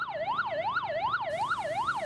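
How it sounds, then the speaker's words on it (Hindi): An ambulance siren wails in a steady up-and-down sweep, rising and falling about every half second, loud and close with no other sounds. "ये आवाज़ आपको क्या पैगाम दे रही है कि इस एम्बुलेंस में मौजूद कोई इंसान सख्त अज़ियत और परेशानी में मुब्तला है"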